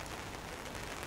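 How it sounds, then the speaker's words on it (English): Heavy rain falls outdoors beside a blacksmith's coal forge fire, a dense, steady hiss of drops with no break and no voices. "it's really raining now"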